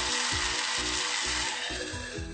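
Chitoi pitha batter hits a very hot pan and sizzles loudly and steadily, a dense, close frying hiss that fills the whole stretch with a faint rhythmic pulse underneath.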